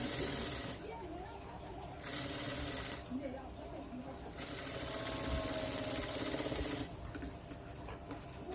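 An electric sewing machine runs top stitching on a Rajputi kanchali blouse in loud bursts of rapid, even stitching separated by short pauses, with background noise between the runs.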